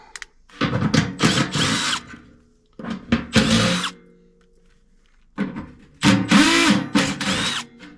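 Cordless power drill fitted with a 3/8 and 7/16 flip nut driver bit spins bolts out of a Carrier ECM blower motor, three loud bursts of whirring separated by short pauses, close up with no talking.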